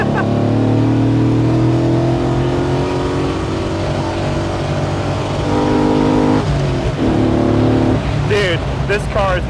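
LS V8-swapped BMW E46 wagon accelerating hard from inside the cabin, a loud steady engine drone climbing in pitch through the gears with brief shift breaks near the end, voices talking over it.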